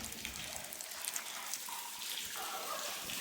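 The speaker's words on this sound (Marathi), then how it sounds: "हा बघा इथे आहे पाणी." Water trickles and splashes steadily along a trail on a trek at Gambhirgad, a continuous close, soft burble without voices.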